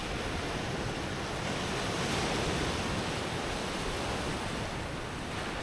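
Ocean surf washing continuously onto a beach shore on the Costa Rica coast, a steady broad roar with wind noise, no talking.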